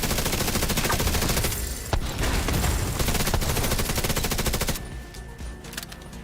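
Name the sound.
KSG shotguns firing in the video game The Division 2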